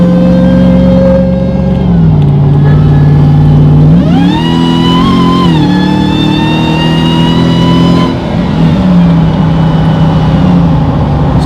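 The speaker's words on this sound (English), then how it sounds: "So the supercharger whines a little bit more than your mother-in-law" A supercharged Hellcat-engined RAM 1500 pickup driving, its loud close engine note rising and falling through gear changes with a clear high supercharger whine climbing as it accelerates, no talking.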